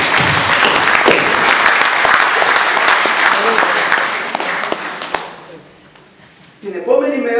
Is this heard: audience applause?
yes